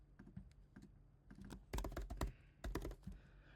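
Someone types quickly on a computer keyboard, with close, crisp bursts of rapid key clicks separated by short pauses and a few heavier strokes in the busiest stretches.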